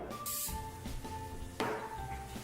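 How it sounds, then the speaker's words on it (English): Short hissing bursts of cooking spray aimed into a cake pan, two quick close sprays under a quiet background. "you just take this and you spray it in your cake pan pretty generously"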